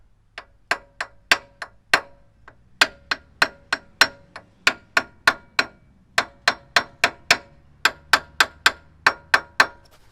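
A hammer taps the wheel studs on a Land Cruiser 80 Series rear axle repeatedly in quick, ringing metal strikes, about two to three per second, close and clear with short pauses between bursts.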